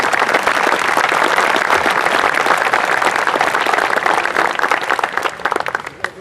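A large outdoor crowd at a town Memorial Day ceremony applauds steadily for several seconds, dense clapping that thins out near the end, with no talking over it.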